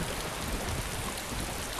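Rain in the video game DayZ: steady, dense hiss of falling rain, constant and even throughout, with no other sounds standing out.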